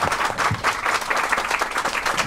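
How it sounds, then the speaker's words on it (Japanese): Warm applause from the audience at a live music night at LIVE Cafe Jive in Japan, a small crowd clapping steadily and close at hand, with scattered individual claps standing out. "皆さん大きな拍手 をありがとうございました。"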